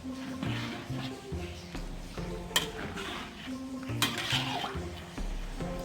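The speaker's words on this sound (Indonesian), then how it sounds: "Kita aduk-aduk hingga airnya menyusut ya teman-teman ya." Rice cooked with leaves being stirred in a pot for nasi uduk, with soft scraping and clinks of a utensil against the metal pot, plus a couple of sharper knocks, close and moderately quiet.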